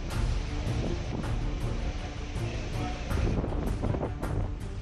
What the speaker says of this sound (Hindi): ओडिशा के भद्रक में भी तूफान से पहले तेज हवाओं के साथ झमाझम बारिश हो रही है।